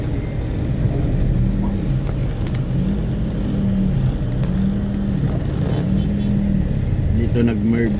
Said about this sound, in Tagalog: Ang tindi ng traffic.